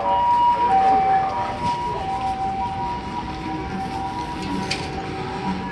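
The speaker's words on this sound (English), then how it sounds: "that ambulance is really ruining my video" An ambulance siren wails along a Yokohama street, its wavering tone carrying over busy city and traffic noise at moderate distance, steady for several seconds.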